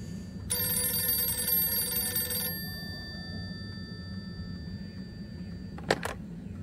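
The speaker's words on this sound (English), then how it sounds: "Phone call." A telephone in the video game Harold Halibut rings once with a bright, sustained electronic bell lasting about two seconds, then stops, leaving quiet room tone and a brief click.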